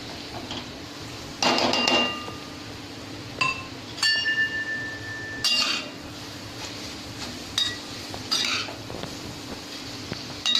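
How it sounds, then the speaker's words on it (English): Cabbage is tossed and mixed in a cooking pan with a utensil, giving bright clinks and scrapes against the pan in irregular bursts over a soft steady sizzle, close up and without talk. "To this, we'll be adding the entire cabbage. And we give it a quick mix."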